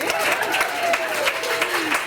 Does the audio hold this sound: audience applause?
yes